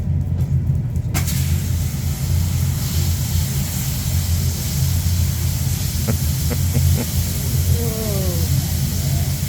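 Molten lava from a lava show in Vík, Iceland, flows over a chunk of ice, producing a loud, steady roaring hiss of steam with a low rumble underneath and a few faint crackles toward the end.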